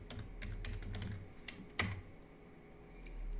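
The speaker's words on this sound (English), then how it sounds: "So we're just going to type in the lady's name." Quick, light keystrokes on a computer keyboard as a name is typed into a search box, a soft irregular patter with one sharper key press, quiet and near in an otherwise still room.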